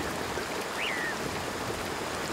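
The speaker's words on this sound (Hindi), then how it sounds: "जैसे जैसे बारिश तेज होती गई" Steady, dense rain pours continuously as a constant rushing hiss, with a brief faint chirp briefly rising above it.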